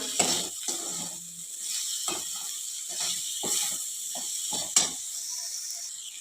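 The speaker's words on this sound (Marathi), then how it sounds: "गूळ आणि मीठ घालून परत एखाद मिनिटभर चांगलं परतून घेऊया" Bitter gourd sautéing in a pan with jaggery and salt, a steady hiss broken by repeated short scraping strokes of a spatula, close and fairly quiet, with no voices.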